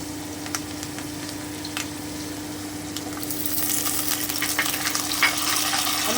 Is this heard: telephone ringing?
no